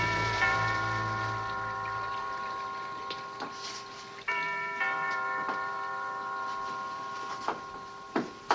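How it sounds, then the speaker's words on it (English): Rain begins to fall in an old film scene: scattered, irregular drops tap sharply here and there over sustained musical tones. "Starting to rain."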